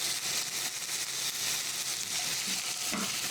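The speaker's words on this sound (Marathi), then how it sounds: "आता 5 मिनिटं भाज्या चांगल्या परतवून घेते." Chopped carrot, sweet corn and bell pepper sautéing in a hot pan, a dense, loud, continuous sizzle with occasional scraping stirs close up and no voices.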